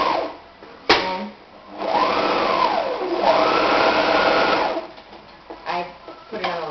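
A sewing machine runs a long, large stitch along a fabric scrunchy, whirring in two sustained bursts of a few seconds each, close and fairly loud, with brief clicks and handling sounds before and after.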